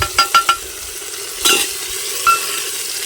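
Chopped small hill tomatoes and a ginger, garlic, green chili and coriander paste drop into frying onions for an arbi sabji, bringing quick spoon clinks and scrapes over a loud, steady sizzle, close up with no talk.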